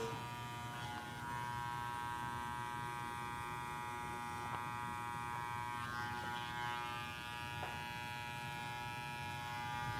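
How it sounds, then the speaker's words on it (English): A modified electric hair clipper with the front of its body cut away, buzzing steadily while trimming hair in a barbershop; a constant close whine with a few faint clicks, fairly quiet and uninterrupted. "having this clipper modified, where I cut the front of the body out, comes in clutch"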